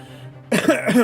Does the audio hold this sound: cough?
yes